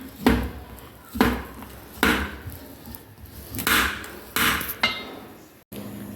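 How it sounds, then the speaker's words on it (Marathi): Solid block of jaggery chopped for sesame laddoos, with about seven sharp, heavy knife blows landing roughly once a second on a board. Each strike is loud and close, with a short woody thud and nothing else between the blows. "लाडूसाठी मला गूळ पाहिजे त्यासाठी मी आज चिरून घेते"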